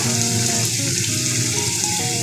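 Marinated mutton hitting hot oil in a pan for mutton curry, a loud, steady close sizzle that holds without a break and has no talk over it.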